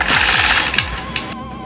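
A sewing machine stitches a hand-guided tree design in machine quilting, running steadily with a loud, rapid mechanical chatter. Near the end it slows and shifts in pitch.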